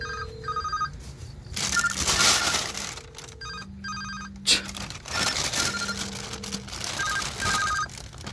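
A mobile phone rings in a rural Korean home, its ringtone sounding in repeated electronic bursts over a few seconds while muffled rustling and handling noises continue nearby, moderately loud and without speech.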